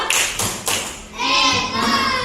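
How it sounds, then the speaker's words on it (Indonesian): Classroom group doing the tepuk hebat clapping routine: a few sharp rhythmic claps and slaps, followed by children's voices chanting along. "kita kasih tepuk hebat dulu ke kelompok 3"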